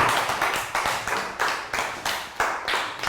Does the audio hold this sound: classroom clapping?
yes